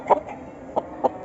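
A young Aseel rooster of the Mushki breed gives several short, separate clucks, one near the start and three spaced close together toward the end, fairly loud and near.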